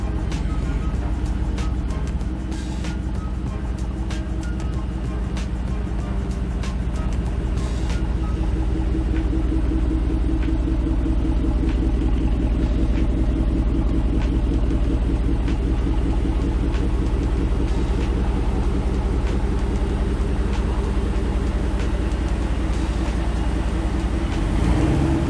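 A Ford F-150 pickup's engine running steadily while the truck is turned around, a continuous loud low rumble with a constant idle hum and no clear speech throughout.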